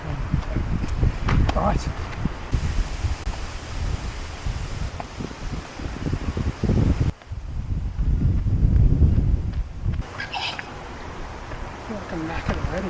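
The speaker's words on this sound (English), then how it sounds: "But it's already pretty windy." Gusty outdoor wind buffets in rough surges with low rumbling bursts, dropping briefly before rising again, while a runner talks over it.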